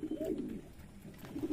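A pigeon coos close by in two bursts, a throaty rolling call at the start and another near the end, with a quieter pause between.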